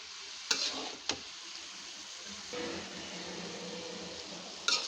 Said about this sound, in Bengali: আমি তেলের ভিতরে পেঁয়াজ আর রসুন দিয়ে ভাজা ভাজা করে নিয়ে এখন বাঁধাকপিগুলো দিয়ে দিলাম।